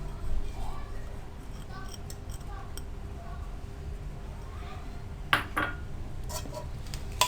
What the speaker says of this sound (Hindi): अच्छी तरह से मिक्स करें आप इसको।